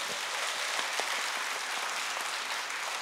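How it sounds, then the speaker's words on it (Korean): Audience applause at a church book concert hosted by a Busan Christian radio station, a steady dense wash of clapping hands held at even loudness throughout. "박수 한번 주셔도 좋겠네요"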